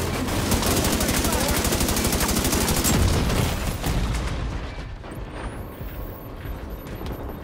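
A minigun fires in a sustained, loud, rapid roar in Division 2, a dense stream of shots that fades into lingering echoes and battle noise.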